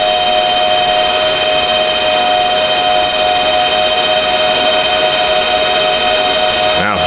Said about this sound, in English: the power supply fans, they tend to scream